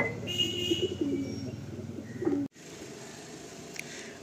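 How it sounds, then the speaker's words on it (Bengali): Red-flecked pigeons in a loft give soft, low cooing under a faint background hum, a few rounded calls close by before a sudden cut to quieter room ambience. "এখনও খুব রেয়ার লাল ফুল পায়রা, খুব কম লফটেই দেখা যায়।"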